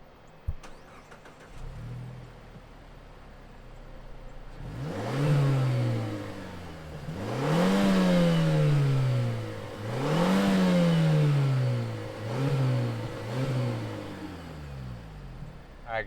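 A 2021 Mazda CX-30 Turbo with all-wheel drive fires up at a quiet idle, then is revved hard several times, each sweep rising and falling in pitch, with two quicker blips near the end; close and loud, no talking.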